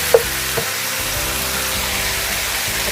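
Fish sauce simmering with chicken in a pan of afritada, a steady close sizzle and bubbling hiss that holds evenly throughout, with a couple of small clicks near the start.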